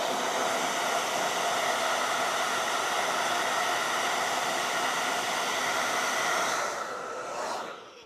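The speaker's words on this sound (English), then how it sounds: "Then I'm gonna go with the blow dryer, dry that." A hair dryer blowing steadily on wet paint: a loud, constant whirring hiss with an even motor hum, held close for several seconds before tapering off and switching down near the end.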